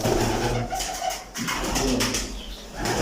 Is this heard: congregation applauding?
no